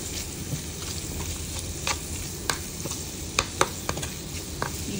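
Garlic and sliced hotdog sauté in a pan for pancit canton, giving a steady close sizzle with scattered sharp scrapes and clicks from stirring throughout.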